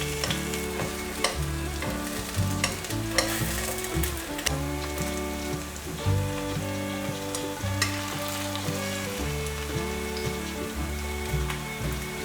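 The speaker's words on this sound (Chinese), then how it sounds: "用中小火慢慢的煎芋头，把芋头煎至金黄色。" Taro pieces pan-frying slowly over medium-low heat until golden, with a steady close sizzle and crackle running throughout beneath prominent background music.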